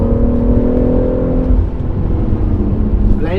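A race car at Goodwood runs under light throttle, a loud close engine drone holding a steady pitch, then settling into a rougher rumble that starts to rise near the end.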